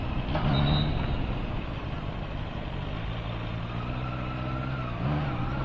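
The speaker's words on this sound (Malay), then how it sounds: "So inilah dia guys, Honda CB650R e-clutch." Honda CB650R E-Clutch motorcycle engine running steadily with a dense, rumbling drone, close and continuous, its pitch wavering slightly over several seconds.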